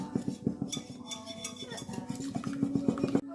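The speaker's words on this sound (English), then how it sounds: "I'm using my hand whisk." A hand whisk beats wet ingredients for zucchini bread in a large bowl, a quick rhythmic run of close clinking taps against the bowl's side, steady and fairly soft, with no talking.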